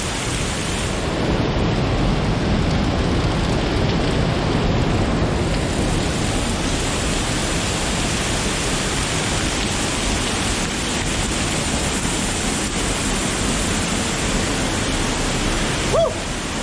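Roaring water from directly beneath a waterfall on a short hike with stairways, a steady, loud, broadband rush that fills the whole stretch without letup, with a brief knock near the end.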